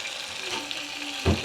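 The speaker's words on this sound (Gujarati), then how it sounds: "ચાલો નાખી દઈએ હળદર" Oil sizzles steadily in a pan as turmeric goes into a potato dish, with a brief louder clatter near the end and no talk.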